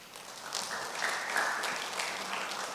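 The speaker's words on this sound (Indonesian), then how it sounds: "Tepuk tangan bagi Tuhan." Faint church congregation applause during a Sunday worship service, a brief soft patter of many hands building and holding for a couple of seconds, heard from a distance with no talking over it.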